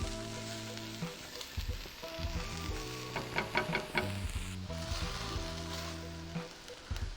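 Diced onions sizzle steadily in a hot pan while cooking for a veggie burger with bulgur wheat and chickpeas, a soft, even frying hiss with occasional clicks and scrapes, fairly quiet and close.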